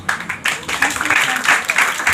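Dense applause from a school audience at a Hindi Diwas poetry gathering, many hands clapping in a continuous patter at fairly close range, with speech mixed in.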